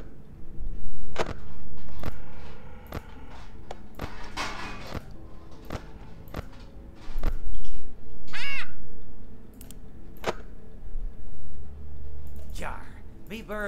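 Crow cawing in the Ultimate Custom Night video game, several harsh caws spread through the scene amid thuds and clicks, with someone talking over it.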